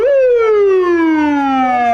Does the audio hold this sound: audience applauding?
no